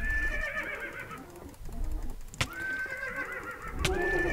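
Horse in the Minecraft Technic Pack game neighs with a loud whinny, then a second whinny follows near the end over a busy game soundscape.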